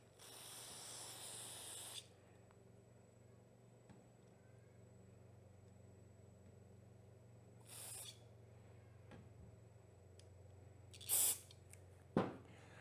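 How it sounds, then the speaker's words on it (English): A compressed air gun blows out carburetor parts in three short hissing bursts: a longer blast at the start, then a brief one midway and a sharp one near the end, over a quiet background. "We'll spritz it off again as we go."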